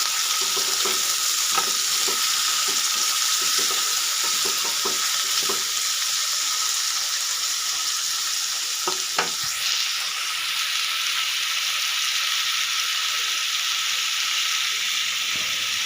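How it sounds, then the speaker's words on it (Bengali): Potato pieces fry in a pan for a potato curry, giving a continuous sizzle with intermittent scraping stirs in the first half, then a steadier hiss. "এবার আলুগুলো দিয়ে দেখে ভালো করে ভেজে নেব।"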